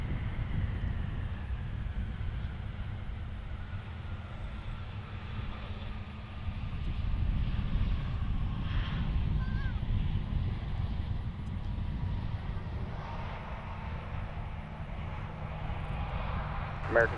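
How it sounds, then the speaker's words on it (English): An Airbus 319 airliner arriving from Miami at Cincinnati airport, its engines a steady low rumble throughout, mixed with wind noise and faint distant radio chatter. "There's our Airbus 319"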